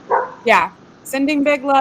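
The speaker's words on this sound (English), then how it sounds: "enjoy the dog barking" A pet dog barks a few times at home during a live show, yips sharp and close, mixed with a person talking over them.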